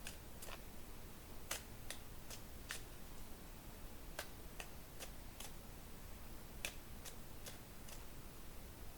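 Sparse, sharp card snaps and flicks scattered over a faint hiss, a tarot deck handled and shuffled quietly nearby, with no talking.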